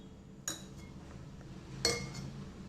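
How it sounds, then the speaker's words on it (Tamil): An egg being cracked on a bowl of maida flour, heard as two sharp clicks against the rim about a second and a half apart, close and fairly quiet over a low background hum. "ஒரு முட்டை உடச்சி இதில் ஆட் பண்ணிக்கணும்"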